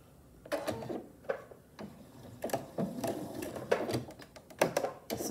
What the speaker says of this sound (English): sew 1/4 of an inch seam allowance right down here